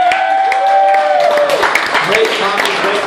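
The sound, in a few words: audience applause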